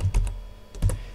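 Two short bursts of keystrokes on a computer keyboard, clicked close by with a pause between them and no other sound.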